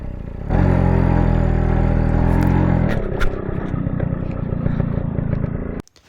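Close motorcycle engine runs loud and steady, shifts to a rougher, lower idle partway through, then cuts off abruptly near the end as the bike is parked.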